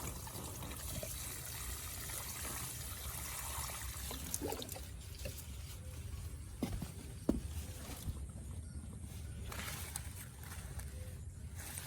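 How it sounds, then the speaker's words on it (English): Water trickles and pours softly onto a turmeric plant growing in a plastic bag in a home garden, a faint, steady dribble heard close up with a few small splashes. "Watering."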